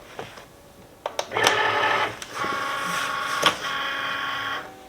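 A Cricut cutting machine draws in a cutting mat for a glitter vinyl tumbler project, giving a sustained mechanical whir with a few clicks and thumps, then a second stretch of steady motor hum nearby.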